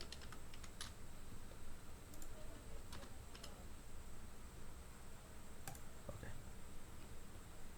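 Quiet clicking of a computer keyboard while typing, scattered light keystrokes in short runs over a steady background hiss, no voices.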